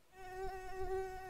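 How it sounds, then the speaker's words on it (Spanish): A mosquito whines in a thin, steady, high buzz close to the ear, holding a constant pitch with a slight wavering for about a second, faint and alone in a quiet room. "Tengo una plaga de mosquitos en casa."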